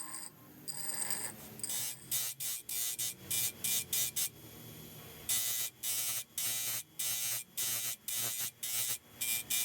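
A grinding wheel cleans up the fullered areas of a piece of forged steel, cutting in with repeated loud bursts of harsh, broadband grinding separated by brief gaps.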